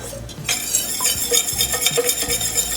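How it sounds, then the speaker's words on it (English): Whisk scraping and tapping against a pan as flour is stirred into melted butter for mac and cheese, quick rhythmic metallic strokes with a faint sizzle beneath, close up and without talk. "I'm going to go ahead and add my flour in here and just whisk the flour in"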